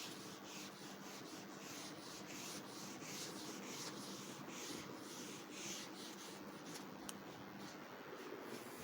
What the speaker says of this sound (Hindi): मैं भी लिखता हूँ